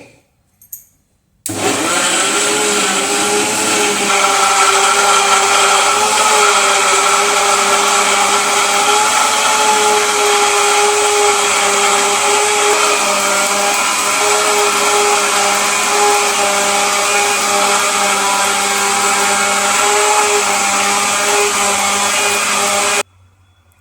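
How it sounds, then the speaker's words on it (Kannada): A mixer grinder blending mango juice whirs steadily and loudly for about twenty seconds, starting abruptly after a brief pause and cutting off at the end, with no talking. "ಈಗ ಇನ್ನೊಂದಿಟ ಇದನ್ನ ಮಿಕ್ಸಿಗೆ ಹಾಕೊಂಡ್ಬಾರ್ದ್ರಿ"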